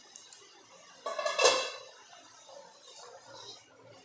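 Metal lid lifted off a pot of chicken biryani masala on the boil, a brief clatter of metal on metal close by, then faint simmering with no voices.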